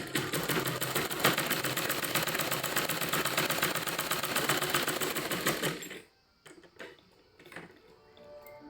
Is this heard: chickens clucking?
no